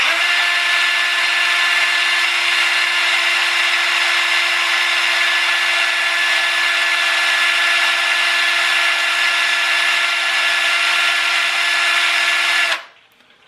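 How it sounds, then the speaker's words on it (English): A cordless drill run in reverse spins a vehicle speedometer cable, whirring at a steady high pitch for several seconds, loud and close, then abruptly stops. "I've got my cordless drill plugged into the end of it"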